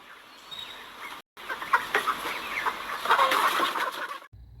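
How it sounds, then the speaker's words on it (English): Baby chicks cluck and cheep in a busy, continuous chorus at moderate distance, with a brief gap partway through and no talking. "it's wing clipping day for the baby chicks."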